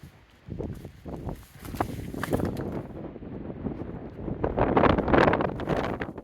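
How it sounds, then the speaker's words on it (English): Strong gusty wind on a steep hilltop buffets the microphone in loud, uneven bursts that swell and ease, with faint footstep-like thuds mixed in. "The wind is extremely strong, and it comes from every direction as well."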